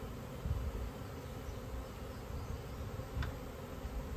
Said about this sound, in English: Good Lord, that was a lot of bees.